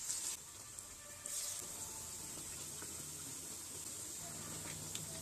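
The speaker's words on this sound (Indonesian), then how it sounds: "Goreng dengan minyak panas menggunakan api sedang." Grated sweet potato cakes sizzle in hot oil over medium heat, a steady hiss of frying heard up close and fairly quiet, with a brief louder burst near the start.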